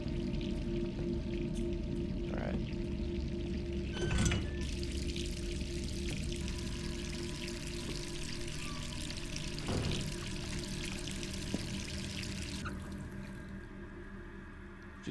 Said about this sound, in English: Leaves the water running.